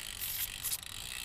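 A bicycle freewheel ratchet ticks quietly as the pedals turn while the cassette is being cleaned, a fast, faint mechanical clicking with a couple of brief louder bursts.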